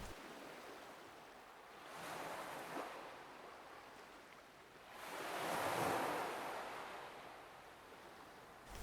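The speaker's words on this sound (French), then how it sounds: "pour faire un clin d'œil, à l'intro, j'ai mis des vagues." Ocean waves sampled into the intro of a music track, two broad swells of surf rising and falling in turn over a soft, steady wash, with no voices.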